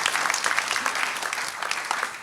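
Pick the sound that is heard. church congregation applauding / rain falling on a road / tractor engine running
church congregation applauding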